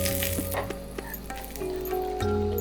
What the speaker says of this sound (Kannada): ಎಣ್ಣೆ, ಸಾಸಿವೆ, ಕರಿಬೇವು, ಇಂಗು ಒಗ್ಗರಣೆ ಮಾಡಿ ಚಟ್ನಿ ಮೇಲೆ ಹಾಕಿದ್ರೆ